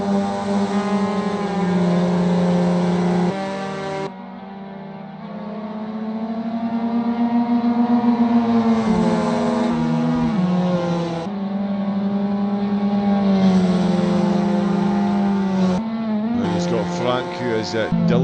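Mazda MX5 race cars come round the last corner at Bilster Berg, engines droning loudly and shifting pitch through gear changes, with a race commentator talking over them.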